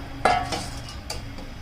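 An apple is washed in a metal kitchen vessel, a couple of clear clanks and knocks over a background of running water, with no talk.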